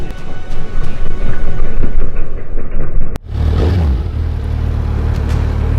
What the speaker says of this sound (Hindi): करते हैं बाइक को स्टार्ट।